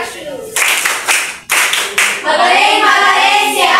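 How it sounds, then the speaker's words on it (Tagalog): Classroom applause: several bursts of hand clapping in quick rhythm, loud and close, then a sustained round of clapping, with a voice faintly audible near the start. "Bigyan ng magaling na palakpak si Ate Precious."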